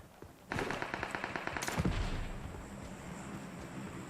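Automatic gunfire in the PUBG Mobile game, a rapid burst of close, loud shots lasting over a second, followed by a fading sharper shot and a lingering tail.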